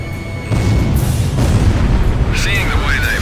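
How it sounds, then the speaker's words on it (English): Explosions echo through a city at night in Ace Combat: The Unsung War on PlayStation 2, a heavy booming rumble that starts abruptly and rolls on loud and sustained, with a brief high whine near the end. "Explosions are echoing throughout the city,"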